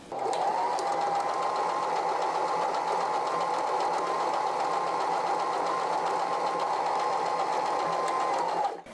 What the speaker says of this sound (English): I'm just going to sew a seam and show you what that looks like.